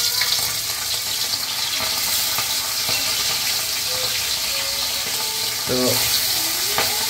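Small native puti fish frying in a pan give a loud, steady, close-up sizzle with crackling hiss throughout, while a voice briefly speaks once over it.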